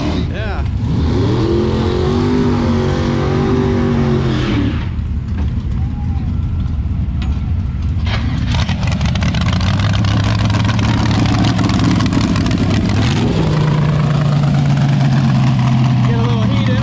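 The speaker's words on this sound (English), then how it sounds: "Bill, we're racing the C10." A Chevrolet C10 drag car engine at a drag strip, idling with a low rumble and rising into a few revs; people talk over it and a whine sweeps up near the end.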